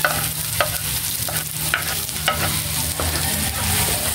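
Onion fries in a pan for a pork giniling menudo, a close, continuous sizzle broken by repeated spatula scrapes and clicks as it is stirred.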